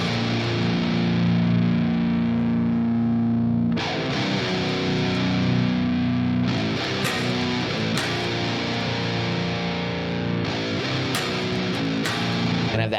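Heavily distorted electric guitar through an amp simulator with Mesa Boogie-style woofiness chugs through chords and sustained notes, thick and saturated, with abrupt changes and palm-muted bursts, playing alone.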